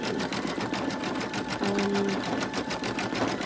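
A home embroidery machine stitches steadily and loudly, its rapid needle hum running continuously and close up with no talk.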